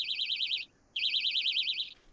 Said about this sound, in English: Got a little bite alarm set up.